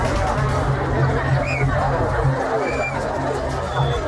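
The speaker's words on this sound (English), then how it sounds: "There's a frenzy. The crowd seems wild." A large, noisy crowd at the Taunggyi balloon festival in Myanmar, dense overlapping chatter and shouting forming a constant wall of babble with occasional higher cries.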